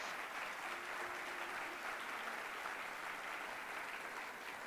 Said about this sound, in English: Please join me in a round of applause for all of our Excellence Award winners